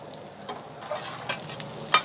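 Finely chopped ingredients and oil are stirred and scraped across a flat-top griddle, with a steady sizzle and a few metal spatula scrapes and clicks, no talking.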